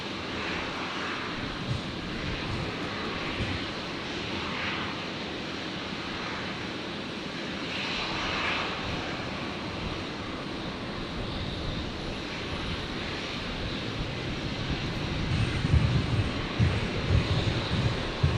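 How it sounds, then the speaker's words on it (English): An Air New Zealand Airbus A321neo jet taxis out at Brisbane airport, a steady distant engine drone that rises slightly toward the end, heard alone. "One of the Air New Zealand's pinging down there. So that'll be one of the 321 Neos heading back out."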